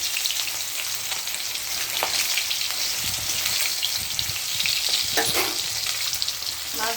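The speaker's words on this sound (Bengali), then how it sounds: "মাছটা ভাজা হচ্ছে, নামিয়ে ফেলবো।" Fish fries in hot oil with a loud, dense, continuous sizzle and crackle close by, broken by occasional spatters and light clinks of a utensil.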